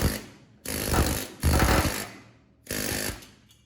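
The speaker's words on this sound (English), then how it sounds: "I finally bought myself an air hammer, and boy is this the best 15 bucks I've ever spent." Cheap pneumatic air hammer cutting out a rusty engine bay skin on a VW Bus under restoration, three loud rapid-fire hammering bursts of about a second each, with short pauses between.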